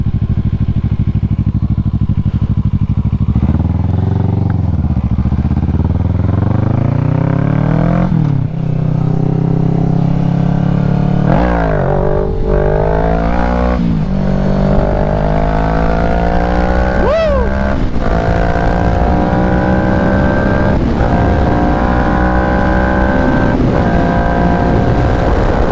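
A motorcycle rides twisty roads, its engine droning loud and close throughout while the pitch climbs and drops with repeated shifts and throttle changes, against steady wind rush.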